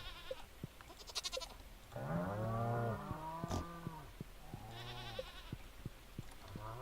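Farm animals in Stardew Valley, with goats among them, give several harmonic bleating and lowing calls. The calls come in bursts around steady game background sounds, and nobody speaks.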